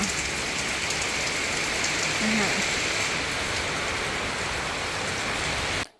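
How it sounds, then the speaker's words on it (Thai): Steady heavy rain pours down on a surface, a dense continuous hiss at constant loudness throughout. "ฝนตกค่ะ ฝนตก"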